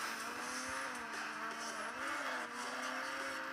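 Car drifting in a racing video game, with a steady engine drone and a squealing tyre tone that wavers and bends, heard faintly and continuously throughout.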